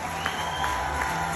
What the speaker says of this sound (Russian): Алгышлар, аплодисменты!